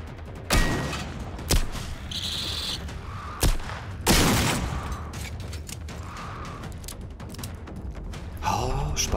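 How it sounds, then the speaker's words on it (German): Several sharp gunshot cracks and a louder explosion ring out at irregular intervals in the video game Generation Zero, mixed with mechanical clatter and faint game sounds. "die wurde irritiert durch den Schuss"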